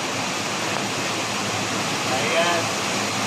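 Steady broadband rush of a waterfall pouring over rocks into a clear forest pool on a rainy day, constant and loud with no break and no voices.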